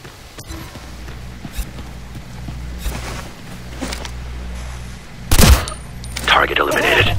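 Gunfire in the tactical shooter Ghost Recon: Future Soldier during the 'Shattered Mountain' mission: a steady low rumble, then a sharp, loud burst of shots near the end, followed by clattering mechanical noise.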